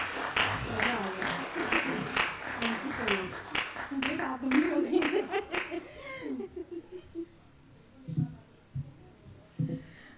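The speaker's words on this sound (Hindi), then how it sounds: "एक बार जोरदार तालियां बजाएं आप लोग।" Audience at a live Hindi comic poetry recital (kavi sammelan) bursts into loud, sustained applause mixed with laughter and talk, fading after about six seconds into scattered claps and murmurs.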